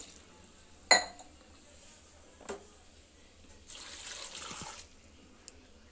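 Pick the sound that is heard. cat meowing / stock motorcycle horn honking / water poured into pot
water poured into pot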